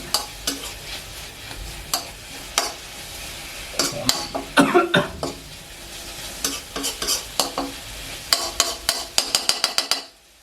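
A utensil scrapes and clatters repeatedly against a pan over a steady sizzle, quick rhythmic stirring close up as chicken with lemongrass is stir-fried dry.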